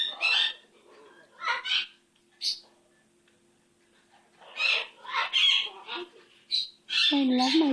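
A pet bird squawks loudly and harshly at close range, in several separate bursts with short quiet gaps between them.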